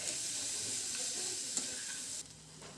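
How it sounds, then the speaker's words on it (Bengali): Olives fry in oil with salt, turmeric and green chillies, giving a steady close-up sizzle with faint stirring scrapes before the hiss drops off abruptly near the end. "এই জলপাইটাকে বেশ কিছুক্ষণ প্রায় 5 মিনিট মতো ভেজে নিতে হবে"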